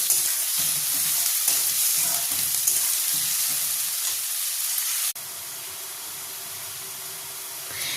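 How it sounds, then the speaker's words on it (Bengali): Sliced onions fry in hot oil into crisp beresta for a biryani, a constant close crackling sizzle broken by occasional stirring scrapes, then dropping to a quieter, steadier hiss midway. "বিরিয়ানির সময় বেরেস্তাটা যেভাবে আমরা লাল করে ফ্রাই করি ঠিক সেভাবেই এটাকে ফ্রাই করে নেব।"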